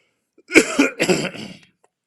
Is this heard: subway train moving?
no